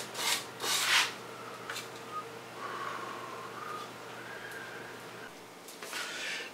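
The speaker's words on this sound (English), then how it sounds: "I put some salt in from my recipe, the salt, and rub it for a while." Salt being rubbed by hand into raw meat for Bavarian head cheese (Presskopf): close, soft rasping and scrubbing strokes in short bursts, then a quieter steady rub, with no talking.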